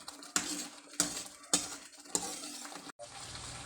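Thai curry paste is stir-fried for a fish coconut curry noodle sauce, with four sharp scraping strokes of a utensil against the pan over a low, continuous sizzle, followed by a brief pause and a steadier frying hiss.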